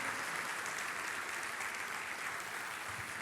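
A church congregation applauds steadily, a dense wash of clapping from many hands with no pauses throughout.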